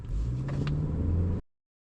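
A 2026 Kia K4 GT-Line turbo hatchback accelerating: a close, rising engine rumble that lasts under a second and a half before cutting off abruptly into silence.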